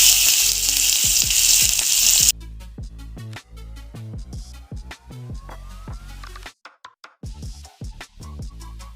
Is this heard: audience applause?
no